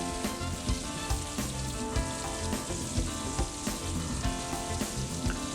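Thin chicken fillets sear in a hot pan with a loud, continuous, close-up sizzle and occasional brief crackles, heard alone without any speech.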